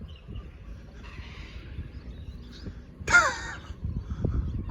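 Parrots in a Sydney suburb give a harsh, loud squawk in one sharp burst midway, with fainter raspy calls earlier against quiet outdoor background noise.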